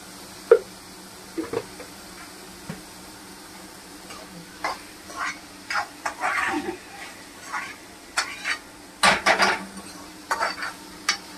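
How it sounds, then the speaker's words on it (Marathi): A spoon stirs mung dal in a cooking pot, scraping and clinking against the metal in irregular strokes that get busier toward the end, with the pot close by. "चांगलं ढवळून घ्यायचं."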